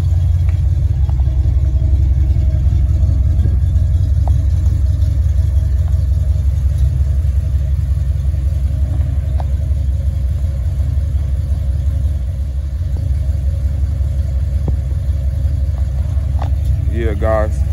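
A car engine, just running again after a fuel pump wire repair, idles with a steady low rumble throughout, close and continuous, with faint background sounds over it.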